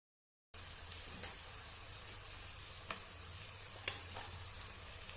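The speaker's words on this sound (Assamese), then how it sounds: "ইয়াতে 4 চামুচ গুড় দি দিছোঁ আৰু গোটেই মিশ্ৰণখিনি ভাজি ল'ম।" Tomato and jaggery mixture for an Assamese tomato chutney frying in a pan, a faint, steady soft sizzle with a few light clicks and ticks scattered through it, no voices.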